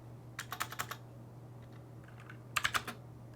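Keys on a gaming keyboard clatter in two short bursts of about five quick strokes each, close and crisp over a low electrical hum, with no voices.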